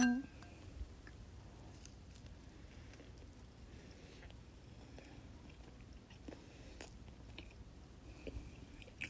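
Someone bites into and chews a Chinese beef sandwich packed with beef, with soft, steady mouth sounds and small crunchy bites heard close and fairly quiet throughout, and no talking.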